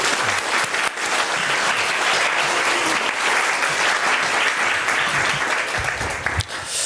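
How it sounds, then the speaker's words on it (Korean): Warm applause fills a church service as the congregation welcomes a visiting pastor, a dense steady wash of clapping lasting several seconds before easing slightly near the end. "우리 큰 박수로 환영하겠습니다."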